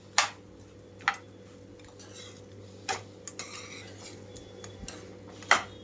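A spoon stirs the tempering through rice rava pulihora made with tamarind in a metal vessel, giving a few sharp, separate clinks and scrapes over a quiet hum, with no talking.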